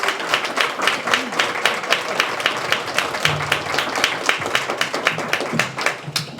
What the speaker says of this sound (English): can we just get a round of applause for all of our panelists first?